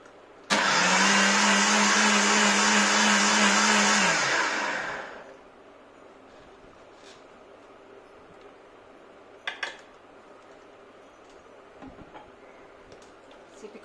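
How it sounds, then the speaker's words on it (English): A blender blending potato soup whirs loudly for about four seconds with a steady high motor whine, then spins down, leaving quiet room sounds and a couple of faint clinks. "We'll add some more water in the blender and just blend this again."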